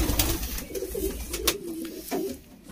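Pigeons kept by a fancier give low cooing calls, with a few sharp clicks from handling mixed in, near and moderately loud.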